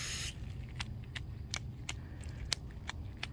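Gray spray paint is flicked from a can onto a thrifted coffee table: a short hiss of spray at the start, then a series of sharp, quiet flicks spaced about a third of a second apart.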